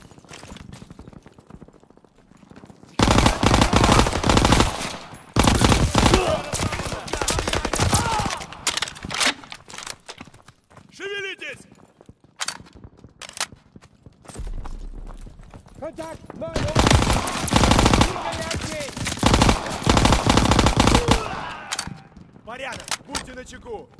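Gunfire in Call of Duty: WWII, loud sustained bursts of rapid shots in two main stretches, with quieter pauses and shouted voices in between.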